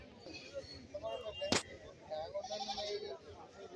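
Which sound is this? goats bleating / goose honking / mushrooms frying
goats bleating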